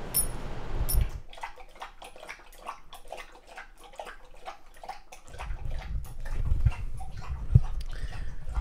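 A service dog laps water from a bowl, a quick run of wet slurping strokes after a brief splash, fairly close and steady.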